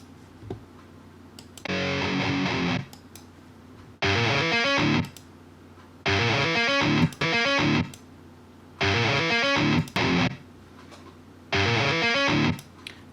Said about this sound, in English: I need the isolated guitar.